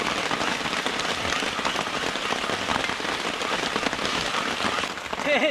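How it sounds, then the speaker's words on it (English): Heavy rain falls in a forest, a loud continuous hiss of drops that holds steady throughout, with a brief faint sound near the end. "Heavy rain again."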